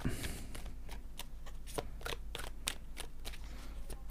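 A deck of oracle cards is riffled and cut close up, a rapid run of crisp flicks and snaps over a steady low hum.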